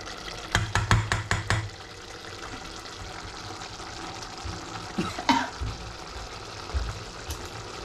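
Coughing from kitchen smoke while pork belly with tiny salted shrimp cooks: a quick run of several sharp, close coughs near the start, followed by quieter cooking clatter and faint background sounds.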